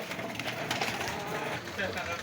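Pigeons, some of them sick, cooing softly in a loft, a low continuous murmur of several birds close by with faint rustling.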